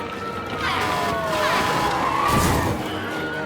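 Fire truck sirens in the video game Darwin's Paradox: a wailing siren that sweeps up and down over several seconds, moderately loud and slightly distant, over a steady background rumble of street noise.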